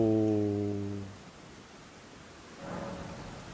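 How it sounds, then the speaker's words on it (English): Steady, soft rain hisses through a scene in the video game Elden Ring, while a low humming tone fades away at the start and a faint tonal swell rises later over the patter. "Maybe this rain will stop."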